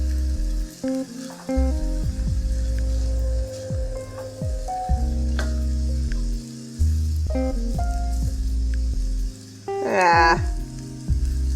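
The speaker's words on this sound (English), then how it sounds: "so we're going to put the rice in. And there we are. That's all you do. Just give it a good stir." Fried rice sizzles and crackles in a hot pan as it is stirred, a steady frying hiss running beneath a person talking close by.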